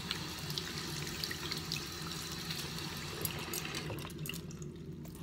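Tap water runs steadily into a sink while makeup brushes are washed, a close, continuous hiss and splash with faint drips, and no talking.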